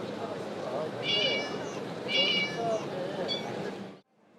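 A robot at a tech exhibition imitates a cat, giving several synthetic meows in a row, close and clear, with short pauses between them and a quiet background hum.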